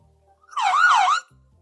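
A single short burst of wailing emergency siren, inserted as an editing sound effect, rises and falls twice in clear isolation between near silence.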